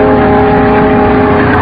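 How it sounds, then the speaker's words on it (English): A car engine runs steadily and close by as it drives up slowly on a rainy roadside at night, a continuous low rumble with no voices over it. "I eased the car into gear and drove up toward him."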